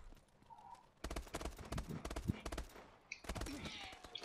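A rapid burst of rifle fire in Call of Duty Advanced Warfare multiplayer, with fast evenly spaced shots in a close cluster and a second, shorter burst after a brief gap.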